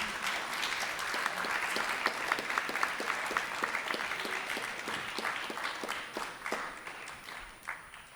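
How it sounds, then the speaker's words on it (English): Applause from a student audience at the close of the 2014 ASCSU live presidential debate, steady scattered clapping carried at moderate level throughout with individual sharp claps standing out, fading slightly near the end. "The audience may clap if they so please."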